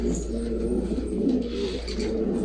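A mated pair of Turkish filo pigeons coos nearby in low, rolling, repeated calls that run continuously and fairly loud over a steady background hum.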